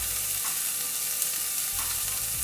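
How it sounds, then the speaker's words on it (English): Onions sizzle steadily in a hot pot being seared on high heat, a dense continuous frying hiss with a couple of brief stirring shifts, close and fairly loud with no talking. "And just let them sizzle"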